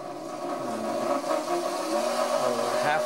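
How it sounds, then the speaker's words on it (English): A NanRobot D4 electric scooter tire rotating slowly gives a steady, continuous whirring hum with a faint mechanical drone, holding an even level throughout. "you can hear the tire rotating slowly"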